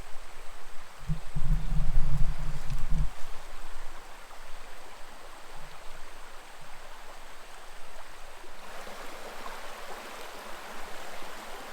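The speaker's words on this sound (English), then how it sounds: "You can see the water coming out of that cave. Big spring." Steady rushing of a large spring flowing out of a cave at Forestville Mystery Cave State Park, Minnesota, fills the background, soft and continuous, with a brief low rumble near the start and a slight swell later.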